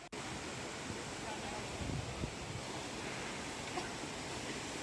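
Water from the Neer waterfall near Rishikesh pours in a steady, broad, soft rushing wash, heard at a distance without voices.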